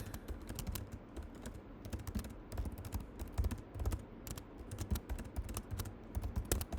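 Steady, fast typing on a computer keyboard while code is written, close crisp key clicks in continuous irregular runs with brief pauses, no talking.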